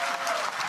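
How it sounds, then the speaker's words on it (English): Crowd at a professional pickleball championship in Atlanta bursts into loud, dense applause after a long rally, a steady wash of clapping from the stands with faint cheering. "Crowd goes nuts with the boys on court."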